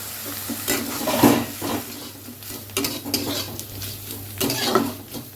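Prawn heads fry in a pan with salt, turmeric and a pinch of sugar, giving a steady close sizzle broken by scraping spatula strokes and metal clinks against the pan.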